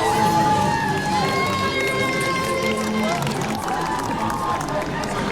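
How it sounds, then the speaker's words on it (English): Dense, steady crowd noise with cheering and shouting along a London half marathon course near the 4 mile sign, a constant roar from spectators lining the road with no clear words, running continuously throughout. "The cheering was just relentless"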